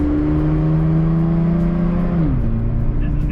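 A car engine roars at full throttle on the road, a loud, steady droning pull that suddenly drops in pitch partway through, then carries on accelerating.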